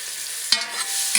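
Onions fry and sizzle in a pan while a tablespoon or more of turmeric is stirred through them, with two sharp scraping strokes of a utensil over a steady hiss, heard up close.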